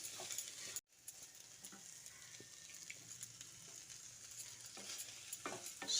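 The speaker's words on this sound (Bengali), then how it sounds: "এবার অল্প একটু জল হাতের সাহায্যে এভাবে ছিটিয়ে দিচ্ছি বেগুনটা যাতে কাঁচা না থাকে" Eggplant cooked with egg and spices sizzles softly and steadily in a pan after a sprinkle of water, with a brief cut near the start and faint stirring clicks.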